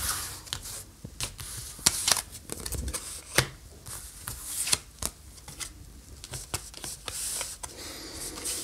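Tarot cards being shuffled by hand, a rapid series of close papery riffles and slaps in uneven bursts, with no talking.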